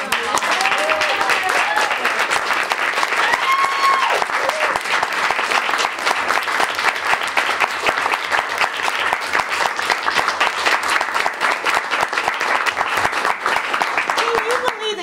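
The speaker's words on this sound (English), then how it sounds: "I'd like all the students to stand up and take a huge round of applause." Sustained, loud audience applause honors students at a news entrepreneur fellowship event, dense clapping running steadily throughout with a few voices calling out over it.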